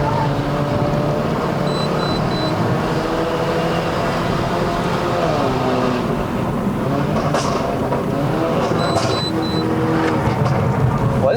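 Mercedes-Benz A180 W176 engine pulling uphill on a winding mountain road in Malaysia, a steady close drone whose pitch climbs and dips with throttle, accompanied by someone talking over it.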